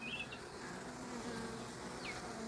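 Honey bees at an open hive hum in a dense, continuous buzz, with a few individual insects whining past close by.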